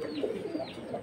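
Large big-headed, long-necked pigeons kept in a cage give soft, repeated low cooing calls, close and steady throughout with no talking over them.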